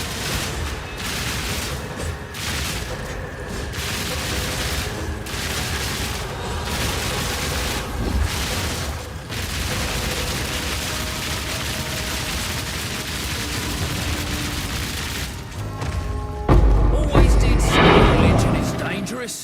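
Rapid-fire crossbow shots from a Witch Hunter in Path of Exile 2, a dense stream of booming, crackling impacts close up, with a voice talking over the barrage.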